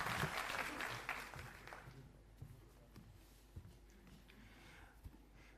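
Brief applause welcoming Deputy CM Manish Sisodia at a gathering of newly elected councillors, a burst of clapping that fades quickly within two seconds, leaving faint room noise and scattered soft knocks.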